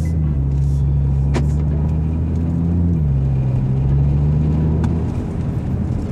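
An Audi RSQ3 engine revs as the car pulls away and accelerates, a loud, close, continuous rumbling drone that steps down slightly in pitch partway through, heard from inside the car.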